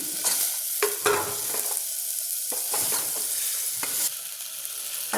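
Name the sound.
chickpeas sautéing in fried masala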